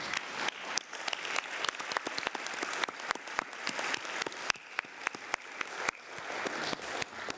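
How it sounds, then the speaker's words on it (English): A conference audience applauds women being honored, steady dense clapping with sharp individual claps standing out, filling the room without pause. "And we need to applaud these women of our nation."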